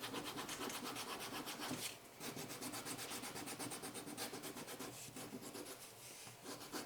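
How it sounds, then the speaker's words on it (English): Leather reinforcement pieces are scuffed up by hand for gluing, a steady run of rapid, even rasping strokes, faint and close, with a short pause partway through. "We can then scruff up the leather on our reinforcements,"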